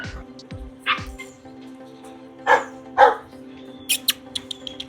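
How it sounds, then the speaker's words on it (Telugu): Belgian Malinois puppies in a kennel give a few sharp barks and yips, close by and loud, with faint whimpering and rustling between them and no talking. "నా వెనక ఉన్న పప్పీస్ అయితే Belgium మెల్నాయిస్, hyper active and at the same time high drive ఉన్న పప్పీస్ ఇవి."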